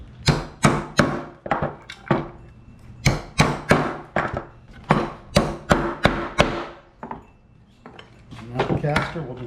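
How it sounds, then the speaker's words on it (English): Metal T-nuts are hammered into a wooden piano dolly, with a series of sharp, loud strikes landing in quick groups and short pauses between them, close by. "The T-nuts just drive in there."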